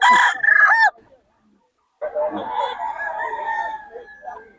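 A rooster crows loudly nearby at a poultry market in Bocaue, then after a short silence a second, longer crow rings out.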